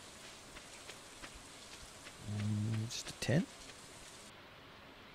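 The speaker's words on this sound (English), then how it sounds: "It is raining." Steady soft rain falls in the farming video game Stardew Valley, a faint hiss running throughout, while someone talks briefly over it.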